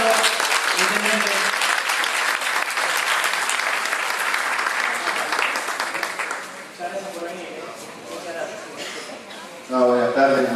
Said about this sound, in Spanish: Recibimos un fuerte aplauso, intendente.